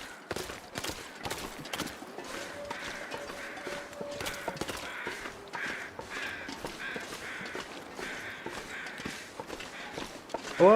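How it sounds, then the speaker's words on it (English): Crows caw repeatedly in the distance in the survival game The Long Dark, scattered harsh calls over a steady run of crunching footsteps in the snow. "I hear the crows"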